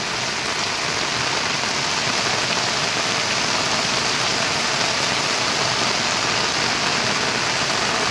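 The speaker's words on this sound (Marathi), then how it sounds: "केवढा पाऊस आहे बघा." Heavy rain pours down in a dense, constant roar that stays even and loud throughout, with no voices heard.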